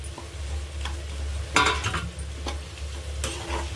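Food frying in a pan for aloo paratha snacks, a low steady sizzle broken by a few sharp scraping stirs of a utensil against the pan.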